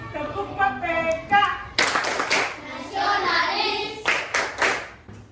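A classroom of children does the Tepuk PPK clapping routine during a teacher's performance-assessment lesson, rhythmic group claps in short bursts with children chanting and voices mixed throughout.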